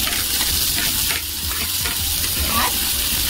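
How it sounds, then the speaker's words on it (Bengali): Chopped onions tossed into hot oil sizzle loudly and steadily in a pan, with a constant close frying hiss and occasional stirring scrapes. "এবার দিয়ে দিচ্ছি কেটে রাখা পেঁয়াজ"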